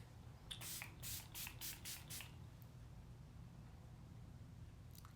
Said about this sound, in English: spray evenly to ensure full coverage. Let the mist dry naturally.